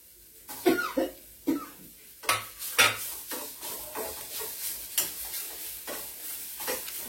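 Carrot being stirred in a hot pan for mango uppuma, giving a steady series of scraping, clattering strokes over a faint sizzle, close and fairly loud, with no talking.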